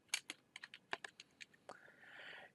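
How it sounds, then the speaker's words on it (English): Keys on a computer keyboard are pressed in a quick, uneven string of quiet, crisp clicks, close to the microphone, ending in a brief soft rustle. "we just hit the 2 key on our keyboard"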